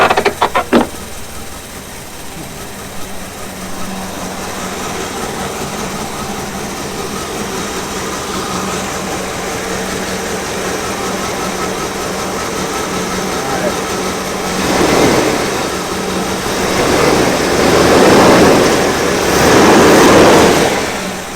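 An old, long-abandoned Chevy truck engine runs at a steady idle while its fan blows debris, with the roar swelling toward the end and voices talking in the background.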